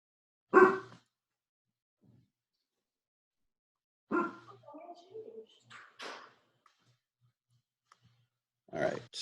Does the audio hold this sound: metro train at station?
no